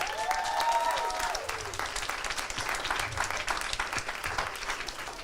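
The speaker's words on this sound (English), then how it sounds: "We can clap it up for them now." Audience applause fills a Kwanzaa celebration hall run by a youth bureau, a steady wash of many hands clapping that holds for several seconds, with a brief tonal whine fading out near the start.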